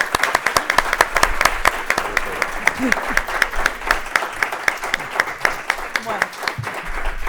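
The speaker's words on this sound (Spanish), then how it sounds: "Yo creo que se merece un aplauso" An audience at a book fair novel presentation applauds the author with sustained, dense, rhythmic clapping from a crowd, close and loud, with a brief spoken word at the start.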